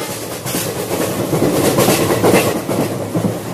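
A train begins to move with a loud, steady rumbling roll and a faint rhythmic clickety-clack of wheels on the rails, heard close and without voices.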